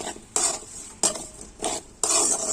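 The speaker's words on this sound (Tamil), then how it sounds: "நல்லா வதக்கி விட்டுக்கோங்க" Vegetables, including drumsticks, are stirred in a hot pan, with four rhythmic scraping strokes over a gentle sizzle and no voices.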